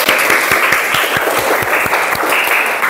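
Children in a classroom clap together in steady, continuous applause, with regular low thumps running through it, loud and close throughout.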